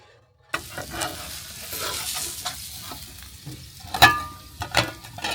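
Fried eggs, bacon and potatoes sizzle in a pan at a campsite, a continuous crackle with a utensil scraping and stirring now and then, close by, with no talking.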